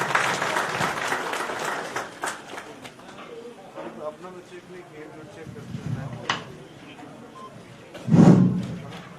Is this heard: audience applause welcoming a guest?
yes